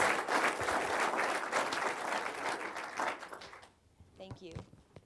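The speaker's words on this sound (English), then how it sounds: "So how about a big round of applause for the class of 1992, our 25-year graduates." Alumni ceremony audience applauds the class of 1992, 25-year graduates, with steady, dense clapping for about four seconds before it tapers off and a voice speaks over the fading claps.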